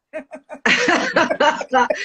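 A person coughs several times up close: three short coughs, then a longer fit of harsh, rasping coughs in quick succession.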